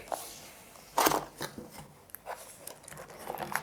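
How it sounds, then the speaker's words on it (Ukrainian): Crinkling and scraping of packaging as a cardboard box containing a CCTV camera is opened, with a sharp tearing burst, followed by scattered softer rustles and taps, fairly close. "Відкриємо коробку та подивимося, що є всередині."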